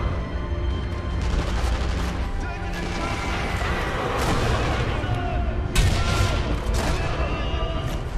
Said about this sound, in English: Someone's still shooting at me.